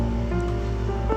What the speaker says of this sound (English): They are cutting the grass in my apartment duplex.